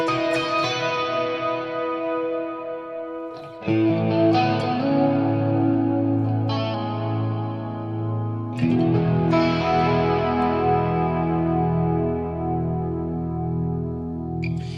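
Ambient electric guitar played through a Headrush unit with a dark, washed-out reverb: sustained chords swell in at intervals with soft attacks and long decaying tails, no talking.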